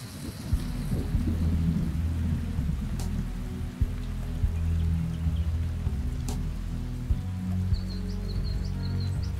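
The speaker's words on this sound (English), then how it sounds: "When the rains come," Steady rain patters down on surfaces during a thunderstorm in koala habitat, with several sharp thunder cracks breaking through the dense hiss and faint birdsong appearing near the end.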